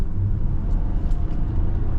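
A 2025 Nissan Pathfinder SL 4x4 SUV cruising down the road, with a steady low engine and tire rumble that holds even and close throughout, and no talking.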